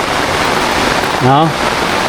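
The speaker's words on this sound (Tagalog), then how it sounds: "Ulan." Steady rain falls on crops at a farmhouse, a dense, even hiss throughout, with a short spoken word partway through.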